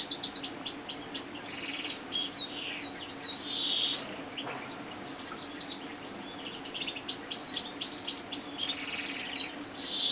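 Caged breeding birds chirp and tweet in repeated quick bursts throughout, moderately close, over a steady low hum with no talking.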